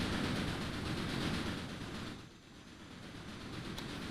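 A fast train running on rails in the game Railway Empire, a loud steady rumble with rattling clatter that dips briefly and then carries on, heard alone without speech.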